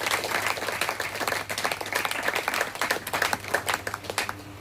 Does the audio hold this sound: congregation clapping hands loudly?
yes